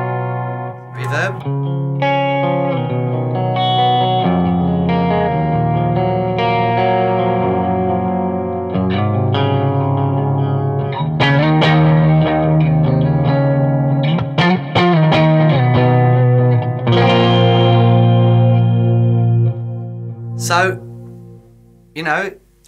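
Electric guitar with lush reverb plays a sequence of chords and single notes, loud and close, each note washing out into a lingering ambient tail.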